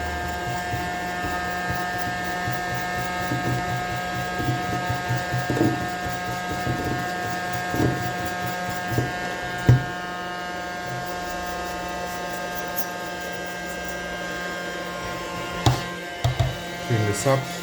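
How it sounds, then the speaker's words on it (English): A weak, failing vacuum cleaner runs on a PC cooler, a steady tonal motor drone with a rattling, ratcheting texture and occasional knocks as the nozzle bumps the hardware. "the vacuum cleaner is dying on me, so there's no power"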